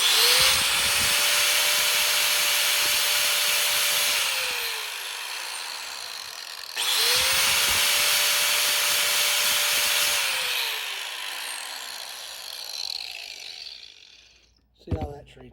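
A power drill bores into a stuck part on a Yamaha DT 100 motorcycle, running in two sustained whining bursts of about four and six seconds each, loud and close, followed by a few clanks.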